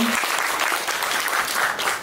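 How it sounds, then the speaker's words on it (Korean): A talk-concert audience in Mapo gives loud, dense applause to welcome a National Assembly member onto the stage, a steady wash of many hands clapping throughout, with no voices over it. "여러분 큰 박수로 환영해 주십시오"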